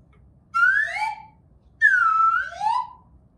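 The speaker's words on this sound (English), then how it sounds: "It's like a little whistle." A small toy whistle sounds twice, each blow a bright warbling tone that slides up then down, with a short pause between, fairly quiet over faint background hiss.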